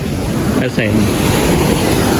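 Sea surf rolls onto a beach in Pangasinan. It makes a loud, continuous roar with wind buffeting the microphone and a brief voice in the middle.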